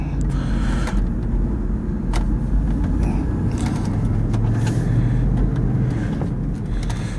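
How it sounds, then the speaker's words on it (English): Steady broadband road roar of heavy highway traffic heard from inside a 2004 Hummer H2 4WD SUV, with passing vehicles swelling and fading continuously and no talk. "we're on a busy little highway right here, and there's a lot of traffic."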